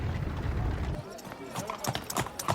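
Horse hooves clip-clop at a walk in an audio drama, a near, steady run of hoof strikes, then quieter scattered steps with some background voices.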